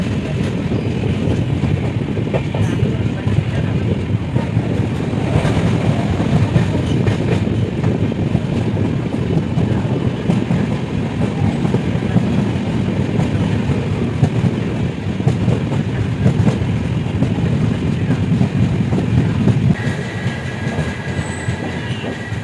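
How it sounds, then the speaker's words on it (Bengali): The Dhauli Express runs on the tracks out of Puri with a constant loud rumble, rhythmic clickety-clack of the wheels and occasional squeal, heard from inside the train. "আমাদের ট্রেন ধৌলি এক্সপ্রেস"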